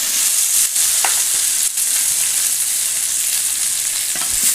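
Onion, garlic and tomato sauté in oil with mustard seeds for a raw plantain poriyal, producing a steady, loud, close sizzle with occasional scraping clicks from stirring.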